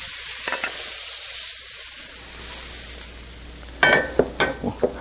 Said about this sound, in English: after we get a good saute on our vegetables,